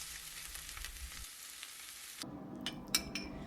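Minced-meat döner frying in butter in a pan, a steady close sizzle that thins out midway, followed by a few sharp clinks and stirring scrapes.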